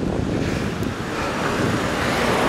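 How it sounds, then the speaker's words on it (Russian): A stormy sea pounds the beach at Alanya with wind and surf, a loud continuous roar of waves and gusts buffeting the microphone, with no one speaking. "Даже не верится, что такой шторм сегодня"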